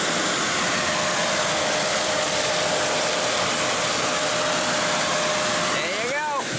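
A Shark Navigator Lift Away vacuum cleaner runs on a bare floor while picking up Cheerios, a loud steady motor whine and airflow rush held throughout, with a brief rising squeal near the end.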